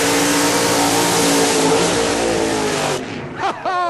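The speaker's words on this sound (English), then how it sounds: "Oh, what a burnout by Weddle." IROC Z28 Camaro drag car with a 548 cubic inch aluminum Rodeck racing engine doing a burnout, a loud continuous engine roar with tire noise that cuts off, followed by brief revving blips.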